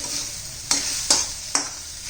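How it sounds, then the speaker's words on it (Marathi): Okra being stirred with gram flour in a pan: three sharp scrapes of a spoon against the pan over a soft, constant sizzle, close and clear, with no talking. "सगळं व्यवस्थित मिक्स करूया बघा सगळीकडे कसं कोटेड झाले व्यवस्थित"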